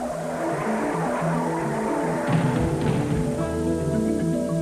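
Race car at the 1986 Indianapolis 500 crashing, with loud, sustained engine roar and tire skidding throughout, and a sharper burst of noise midway, no voices.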